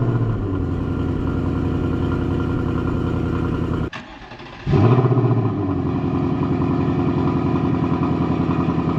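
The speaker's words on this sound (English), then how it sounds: "Let's go ahead and hit this thing with a cold start, see how this Coyote sounds." Stock 2026 Ford Mustang GT with a Coyote V8 idles loudly, then cuts off briefly before a cold start. The engine catches with a sharp revving flare and settles back into a steady, rumbling idle.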